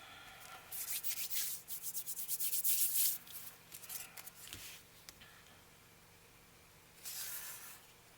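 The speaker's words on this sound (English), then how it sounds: "Any excess, you want to rub it down now before it cures, because you can get it off now." Excess material being rubbed down on a handmade file folder journal: quiet, close dry scrubbing strokes in a steady rhythm for a few seconds, a pause with faint ticks, then one more short burst of rubbing.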